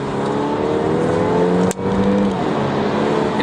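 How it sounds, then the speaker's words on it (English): 2019 Volvo S60 T6 R-Design accelerating on a highway, steady loud engine and exhaust drone with rising tonal whine heard from inside the car, broken by a brief sharp click midway. "just accelerating past this car behind me here, and you know, just the transmission and the engine sounds good"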